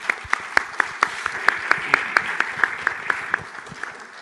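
Applause from a conference audience at a closing panel, a sparse round of distinct claps with sharp individual hits spread across the room, steady for a few seconds and tapering off at the end.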